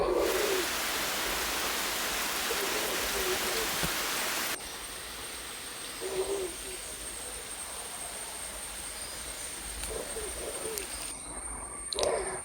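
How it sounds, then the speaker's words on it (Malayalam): Heavy rain pours outside as a steady, dense hiss that is louder at first and then continues more softly, with a few bird coos faintly in the background. "പുറത്താണെങ്കിൽ നല്ല മഴ കേട്ടോ"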